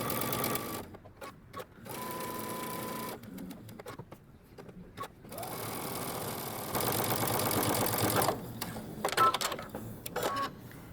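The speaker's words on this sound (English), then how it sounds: "I'm just going to stitch all the way around along a 5/8 of an inch line" A sewing machine runs steadily, stitching a 5/8 inch seam around cropped leggings, its motor whirring with a continuous rattling chatter that varies in speed and stops briefly several times.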